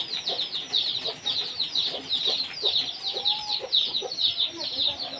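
A flock of chickens clucking, with rapid repeated high clucks and squawks in dense overlapping bursts, fairly close and lively, with occasional faint human voices underneath.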